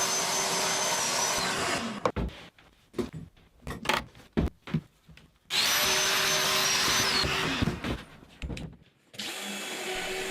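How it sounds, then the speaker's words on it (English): A Festool-style domino joiner cuts connector mortises into the faces of wardrobe carcass sides, with two long loud bursts of motor whine and extraction separated by a stretch of sharp clicks, knocks and handling noises. "I can cut the connector mortises in the faces of the carcass sides."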